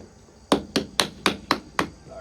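Six sharp hammer blows strike wood on a homemade mailbox. They come at an even, quick rhythm, close by and loud, with no voices.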